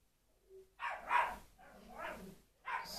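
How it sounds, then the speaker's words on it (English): A dog barks a few times in the distance, short muffled yaps spaced out over a few seconds with quiet between them. "You can hear my dog barking in the back."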